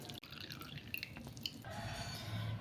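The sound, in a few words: squeezing excess water out of boiled grated raw papaya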